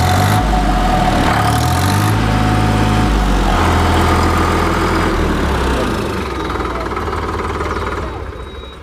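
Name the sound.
three-cylinder tractor engine idling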